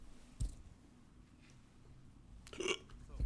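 A short burp from a man during a live talk, with a faint one early on and a louder, throaty one near the end, against a quiet room.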